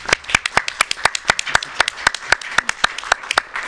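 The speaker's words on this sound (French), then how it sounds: "je pense qu'on peut la remercier et l'applaudir vraiment" An audience at a police-themed conference applauds with quick, sharp, irregular claps that continue steadily and fairly close.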